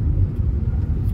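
A truck engine drones on the road, a loud, continuous low rumble heard from nearby without pauses or talking.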